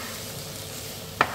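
Whole spices and bay leaves fry in a pot for goat curry, a soft steady sizzle with a single sharp scrape of a spoon near the end as they are stirred, close and alone.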